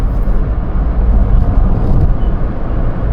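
Hyundai i20 diesel car engine pulling hard under acceleration in a high gear, a loud, steady low rumble with broadband road and wind noise throughout.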